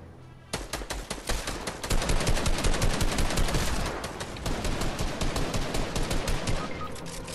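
Rapid automatic gunfire rattles in a video game, dense bursts of shots starting abruptly and continuing loud and sustained, with brief dips between volleys and no speech.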